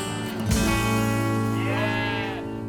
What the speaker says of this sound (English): These sheep are really friendly. They're a mixture of Leghorn and East Friesland dairy sheep